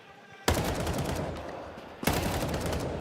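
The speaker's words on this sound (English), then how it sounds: "Clean rifle work, DGT." Rifle gunfire in Counter-Strike during a StarLadder Budapest Major 2025 match: two dense, rapid bursts of close, loud automatic shots, each starting with a sharp attack over a background hum.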